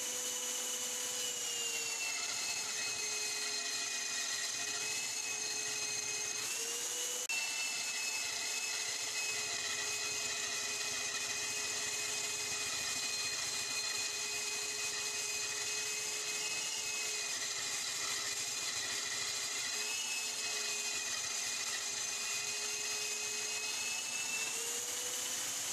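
Homemade bandsaw driven by a power drill cuts through two glued layers of pine, a steady loud whine with sustained motor tones that dip briefly in pitch as the blade loads up, continuous throughout.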